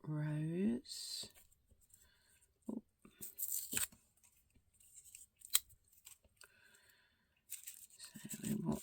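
Crinkly tearing of a wrapper as a watercolour paint pan from a travel set is unwrapped, quiet scattered rustles and crackles near the mic, broken up by short bursts of a voice.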